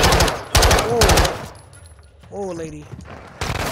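Gunfire from Call of Duty: Modern Warfare in the Las Almas streets, loud bursts of automatic fire at the start and end with a quieter stretch between, and someone speaks briefly.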